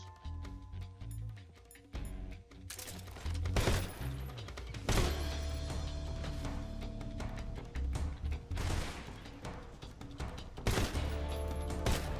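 Suppressed gunfire in Metal Gear Solid Delta: Snake Eater, with muffled shots in quick bursts and scattered single pops, mixed with clatter and background game sound at moderate loudness.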